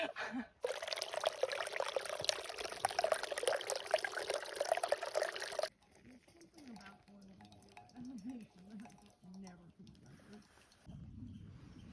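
Water is poured steadily and closely for about five seconds to make coffee on a mountain trail, followed by quieter handling noises and brief murmured talk near the end.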